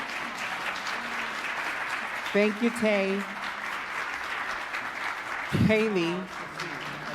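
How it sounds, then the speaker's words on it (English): An audience at a Transgender Day of Remembrance event applauds the panel with steady, moderate clapping that runs throughout while someone speaks briefly over it twice. "please let's give a round of applause to our panel"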